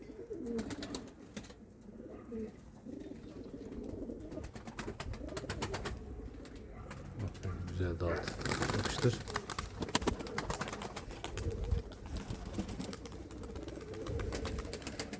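Pigeons coo softly amid a muffled, rustling background, while people talk intermittently.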